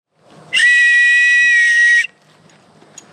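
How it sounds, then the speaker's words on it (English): A hiking whistle blown in one steady, loud, piercing blast lasting about a second and a half, close to the listener, followed by quiet outdoor ambience. "A whistle is good to take with you as well."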